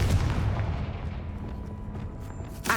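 A Confringo blasting spell goes off in Hogwarts Legacy, opening with a loud explosive boom. A long rumbling decay follows, and a second sharp burst comes right at the end.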